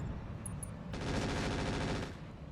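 Automatic base turrets in a mech combat video game open fire on stealth VTOL aircraft, a dense continuous burst of rapid gunfire lasting about a second over a steady rumbling background.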